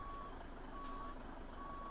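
In American Truck Simulator, a truck's reversing alarm gives steady, evenly spaced beeps over a low engine rumble, moderately loud and heard alone.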